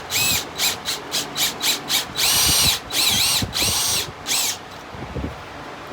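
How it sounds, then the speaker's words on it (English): A power drill bores out the wooden joints of a 1930s Duncan Phyfe captain's chair for dowels, with loud close whining bursts that start short and rhythmic and then run longer, with a scraping rub between them. "I'm gonna drill these out"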